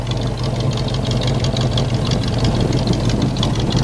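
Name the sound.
1956 Chevrolet Corvette engine idling rumble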